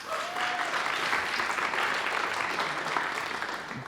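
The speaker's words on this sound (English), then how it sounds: "let's give another round of applause for Virginia." Applause from the audience at a pitch contest during an Alaska innovation summit, a dense, even roar of clapping that holds steady throughout and tapers slightly at the end.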